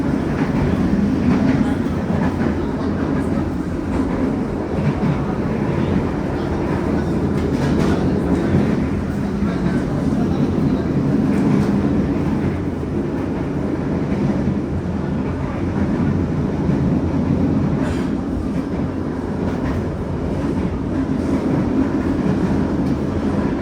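A long-distance passenger train on an Indonesian railway runs steadily on its rails, heard from inside a dining car with a continuous low rumble and a faint rhythmic clatter of the wheels, with no voices.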